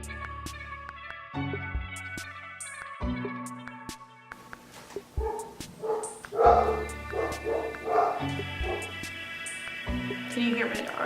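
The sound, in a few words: dogs barking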